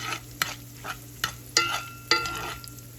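Cube steak fries in coconut oil and butter with garlic, a steady sizzle broken by repeated sharp scraping stirs at an irregular rhythm, close and fairly loud.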